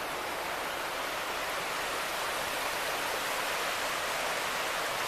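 The Rapidan River flowing beside Graves Mill Trail, a steady, even rush of moving water heard alone and fairly close, with no voices.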